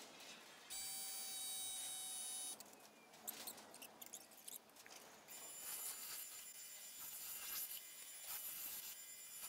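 Aircraft stringers being trimmed for an RV-14 horizontal stabilizer build in a home workshop, with a sustained high-pitched whine from about 1 to 2.5 seconds, then rough scraping and cutting bursts that give way to a continuous bright grinding hiss.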